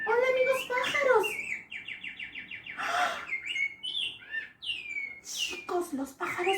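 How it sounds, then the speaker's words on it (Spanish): Birds twitter and whistle close by in varied phrases, including a rapid trill of repeated notes, with a voice speaking through part of the chirping. "los pájaros me están diciendo algo muy importante."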